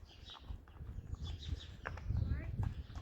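A 22-year-old horse's hooves clip-clop during a gait assessment, a series of light, uneven footfalls at moderate distance, with a person talking over them.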